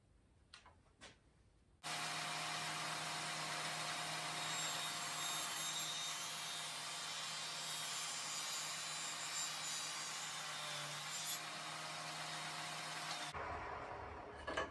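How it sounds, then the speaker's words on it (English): A table saw fitted with a 3/8-inch dado blade, set near the fence with a feather board, cuts grooves in wooden beehive slats: after faint knocks, a loud steady whirring roar runs about eleven seconds, then stops. "I've set up my table saw with a 3/8 inch dado"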